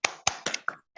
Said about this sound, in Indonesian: yuk kita bertepuk dulu ya, Nak